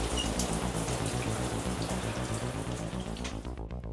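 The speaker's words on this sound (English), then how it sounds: "Me and Choppy are taking a shower" Shower water runs steadily nearby, a continuous hiss and patter that stops abruptly near the end.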